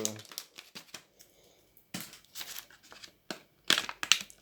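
Scissors cut through the plastic wrapping of a trading-card booster pack, giving crisp crinkling snips in short separated bursts with quiet gaps between them.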